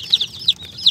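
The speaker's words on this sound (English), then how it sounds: "We have just had the privilege of picking up 40 chickens, little baby chicks" Baby chicks peep inside a car, one of forty being carried. Three or four short, high, close chirps come at a quick, uneven pace, and nobody speaks.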